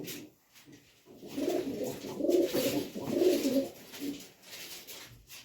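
Pigeons coo in soft, low, repeated throaty phrases close by, several swelling calls in a row with brief pauses, and no talk.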